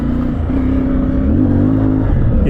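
A CFMoto 450MT motorcycle engine revs hard and loud up close while the rear tyre spins, a steady droning growl with rising and falling pitch.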